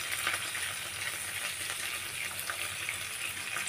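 Onion, green chilli and curry leaves fry in hot oil with a close, steady crackling sizzle, bright and continuous with small pops throughout, and no talking.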